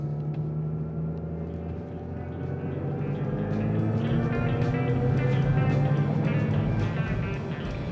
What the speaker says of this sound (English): the fake internal combustion vehicle sounds